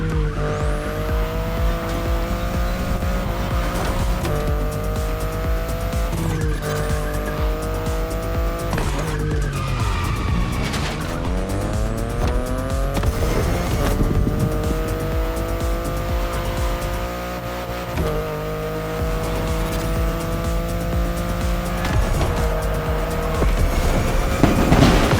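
A BMW in the racing game The Crew Motorfest drives hard with a steady loud engine roar, tires squealing and skidding repeatedly through corners, shifting pitch with gear changes throughout, and no talking.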